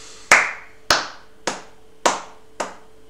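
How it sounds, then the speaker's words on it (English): Five single, sharp hand claps ring out one by one at a slow, steady pace, each close and crisp with a short echoing tail and quiet in between. "Claps."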